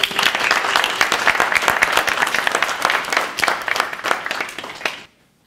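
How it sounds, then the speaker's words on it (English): A large audience applauds with dense, sustained clapping for about five seconds, then it cuts off abruptly into silence. "please give a huge round of applause to Samantha Wilkinson."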